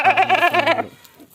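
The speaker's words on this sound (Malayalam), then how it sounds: "വലിയൊരു പർപ്പസാരി ആട് കൊമ്പില്ലാത്ത പർപ്പസാരി" A large hornless Parbatsari goat gives one close, loud bleat with a wavering, quavering tone lasting under a second, then goes quiet.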